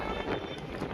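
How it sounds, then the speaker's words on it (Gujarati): Strong wind blowing at the seashore, a loud, steady roaring rush buffeting the microphone close up for a brief moment, with no voices. "જોરદાર પવન આવે છે બધો મસ્ત"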